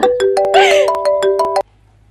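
A mobile phone plays a bright electronic melody for an incoming call in a Pakistani drama scene. The loud, clear tune runs about a second and a half, then cuts off abruptly into near silence.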